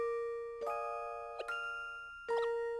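A café door chime in the Professor Layton video game rings three times, each a bright, sustained metallic ding with long ringing overtones, set against a quiet, faintly buzzing background with no talk.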